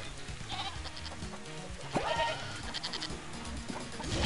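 Cartoonish goat bleats in the co-op video game Moving Out 2, several wavering cries heard over busy game music and effects, fairly loud and close.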